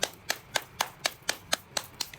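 Quiet, evenly timed clapping at an event, about nine crisp claps in a steady rhythm, faint and without voices.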